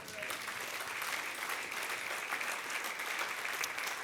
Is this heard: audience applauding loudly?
yes